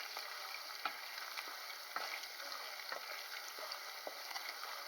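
Chinese style curry paste sizzles in a frying pan while being stirred, a steady soft crackle of frying broken by regular scraping strokes roughly once a second, close and quiet with no voices.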